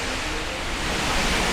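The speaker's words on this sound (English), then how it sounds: "So from here you can see the waterfall." A waterfall near Ubud, Bali, beside a temple with a natural swimming pool, gives off a dense, constant roar of falling water, close and loud, steady throughout with no voices.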